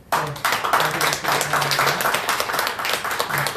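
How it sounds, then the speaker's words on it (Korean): Church congregation clapping, a short burst of brisk, close hand claps from a modest group, steady and lively with a faint voice or tone humming underneath. "여러분 박수로 크게"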